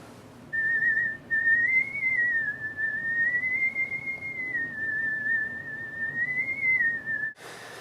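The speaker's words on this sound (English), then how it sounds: "It's just like this constant whistling." A constant high whistling tone sounds inside a house, steady and slightly wavering in pitch for several seconds before cutting off abruptly.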